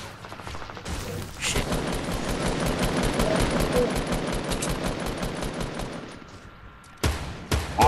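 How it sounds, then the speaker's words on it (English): Rapid automatic gunfire in the video game Fortnite, dense bursts of shots rattling almost continuously for several seconds, then a pause and a few more sharp shots near the end. "Oh, they're shooting down at us."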